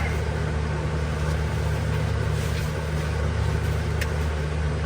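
A steady, unbroken fan whir inside a van, with a low droning hum underneath, holding at an even level throughout with no talking.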